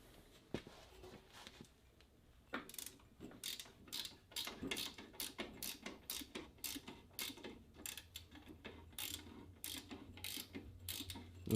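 Rapid ratchet clicks from a socket wrench working loose a 17 mm bolt on a VW Beetle engine, coming in quick bursts of sharp ticking with short pauses, close and fairly loud against a low background hum.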